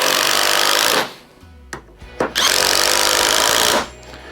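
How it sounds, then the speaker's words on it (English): A Bosch Freak impact driver sinks 2-inch deck screws in two loud, close bursts of rapid hammering, separated by a short pause with a brief clatter. "the first thing we're going to be driving in is just a 2-inch deck screw, and we're just going to be driving in 2 of them."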